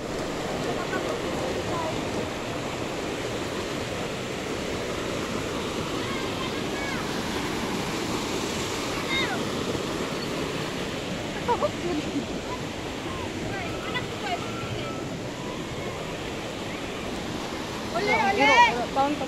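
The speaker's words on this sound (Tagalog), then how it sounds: "nay sapa nga gaagas ana siya kanindot" River water flowing at Bulatukan during a mountain hike: a steady, broad rushing wash that carries on evenly all the way through.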